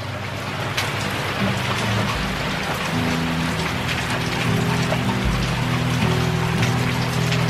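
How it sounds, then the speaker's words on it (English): Steady rain falls across a rural backyard where broody hens are kept, making a dense, continuous hiss of drops that builds slightly toward the end, with a low hum running underneath. "here comes the rain."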